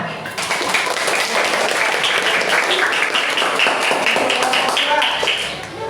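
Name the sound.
class clapping hands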